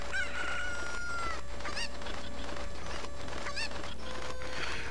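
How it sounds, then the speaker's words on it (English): A cucco chicken in Kakariko Village in Zelda: Ocarina of Time clucks and crows repeatedly, with several short squawking calls over steady game ambience. "Simple as that, but there's still more cuckoos."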